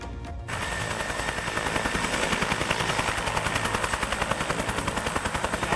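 An Indian Air Force light combat helicopter with its rotor chopping in a rapid, steady rhythm that starts abruptly and stays loud and near, no talk.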